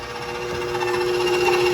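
Continuous motor whir and steady tonal hum of an electric mixer creaming fat and white sugar for confetti cookie dough, close and unbroken for the whole stretch.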